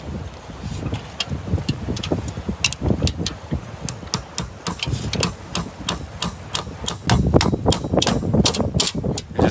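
Roofing nails are hammered in to tack down aluminum, giving a run of sharp, evenly spaced strikes that speed up toward the end over light wind noise outdoors.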